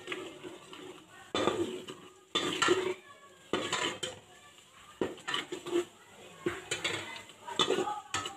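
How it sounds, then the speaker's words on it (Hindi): Garlic ginger paste frying in ghee in a pot, stirred with a utensil that scrapes and clanks against the metal in repeated bursts over a soft low sizzle, close and steady. "1 से 2 मिनट तक इसकी अच्छी तरह बुनाई कर लें घी में"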